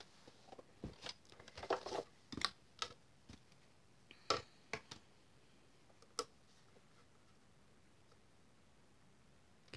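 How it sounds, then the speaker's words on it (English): A Big Shot die-cutting machine works card through its plates, giving a quiet series of sharp clicks and ticks, irregular and close, clustered in the first seconds before fading to faint room tone. "now I'm just going to bring in my Big Shot real quick and get this last one cut out"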